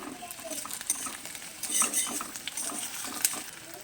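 A utensil stirs carrot and pumpkin in a cooking pot for winter vegetable khichdi, with soft scraping and light metallic clinks that come in irregular bursts at low volume.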